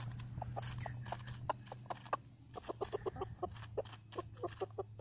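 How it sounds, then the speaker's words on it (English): Roosters cluck in quick repeated bursts while pecking at a head of lettuce, busy close chatter of short calls with soft tapping over a low steady hum. "Go, roosters."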